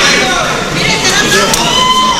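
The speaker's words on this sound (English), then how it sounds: "And hear the crowd. They're going." A boxing crowd cheers and shouts around the ring, a loud dense wash of voices with scattered whoops, continuous through the brief moment.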